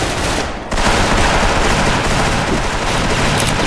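Loud, continuous automatic gunfire from an Uzi in the shooter game Special Force, rapid overlapping bursts filling the whole stretch with only a brief dip near the start.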